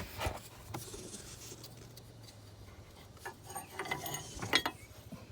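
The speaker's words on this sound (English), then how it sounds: "I'm going to go ahead and take the bracket out right now too." Wrench and ratchet work on the front sway bar bracket bolts of an R56 Mini Cooper S, with faint metallic clicks, scrapes and a few sharp taps spread through a quiet garage.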